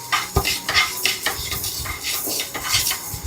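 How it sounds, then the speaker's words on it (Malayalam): Mustard seeds and fenugreek roasting in a hot kadai, heard as busy metallic scraping and clinking of a spoon against the pan with faint popping and sizzling underneath. "കടുകെല്ലാം പൊട്ടി ഉലുവെല്ലാം മൂത്ത് വന്നിട്ടുണ്ട്"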